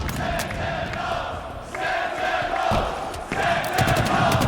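An esports arena crowd at the Halo Infinite grand finals in Kansas City roars and cheers continuously, swelling toward the end, with a caster's voice faintly under the noise.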